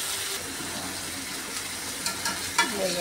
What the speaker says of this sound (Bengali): মাংস কষানো হয়ে যেতেছে।